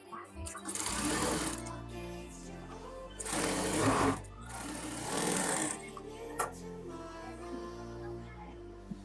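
A sewing machine stitches strips onto a blouse in steady, rapid bursts of needle clatter, pausing between runs, while someone talks over it close by.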